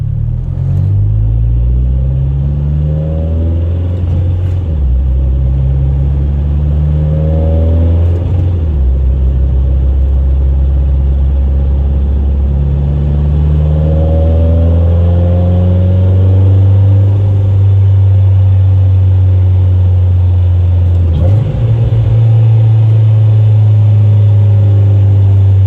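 A 9th-gen Honda Civic Si engine revs repeatedly while driving, loud rising harmonics climbing toward high rpm, dropping at each gear change, then holding a steady drone.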